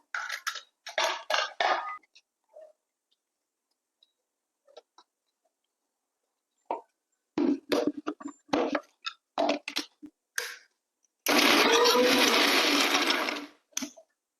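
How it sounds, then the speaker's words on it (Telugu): A kitchen mixer grinder whirs loudly for about two seconds near the end, grinding chutney with garlic and cumin, after scattered clatter of kitchen handling and brief sounds earlier. "ఇది మిక్సీ పట్టేసుకుందాం చట్నీ అయిపోతుంది ఇందులో కొంచెం వెల్లుల్లిపాయ కొంచెం జీలకర్ర"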